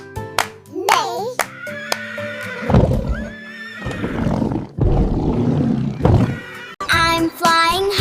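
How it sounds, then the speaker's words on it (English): A horse neighs loudly in a children's compilation of animal sounds, a rising and falling whinny among other bright animal and cartoon calls, roars and claps, up close and in quick succession. "Neigh."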